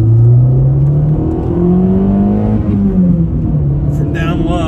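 An Alfa Romeo 155 twin spark engine hums and revs under a voice, pitch rising and falling as the throttle changes, close and fairly loud.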